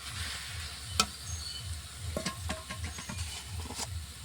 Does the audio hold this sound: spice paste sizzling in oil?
yes